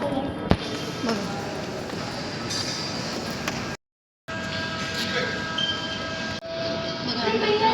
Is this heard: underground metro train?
yes